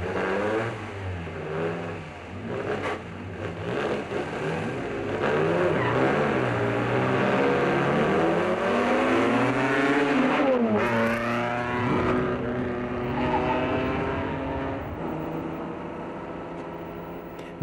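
Racing cars in an exhibition race roaring past, engines revving hard and rising in pitch as they accelerate, then fading away as others follow close behind.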